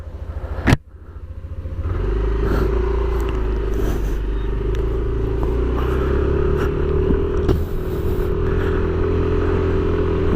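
A Yamaha NMAX V2.2 motor scooter starts with a sharp click, then its engine settles into a steady, loud running drone with a slight rise in pitch, heard close up without talk, during a soft break-in.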